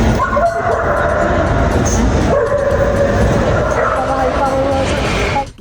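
A military security dog at an airport barks and yips repeatedly, close and loud, amid background chatter and vehicle noise.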